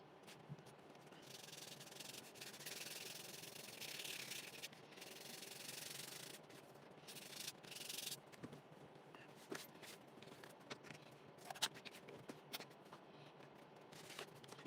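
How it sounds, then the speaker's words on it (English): Sandpaper rubbing on a model aircraft propeller for a Cessna build, steady close scratchy strokes in uneven bursts with brief gaps and small knocks, no talk. "Yes, the sanding. It's paramount."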